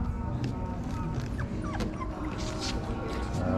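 Small puppies whimpering and yipping together in a nursery puppy pen, a steady close chorus of soft whines with faint talk in the background.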